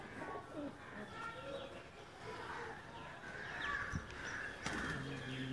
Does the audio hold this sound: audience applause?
no